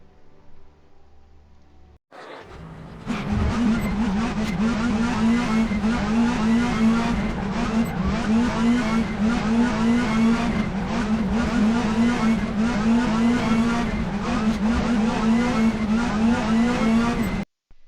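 Race car engine in the RaceRoom sim at the short Monza Junior circuit, a steady loud drone with a strong low tone and rising, falling revs through gear changes, running continuously after a brief quiet start.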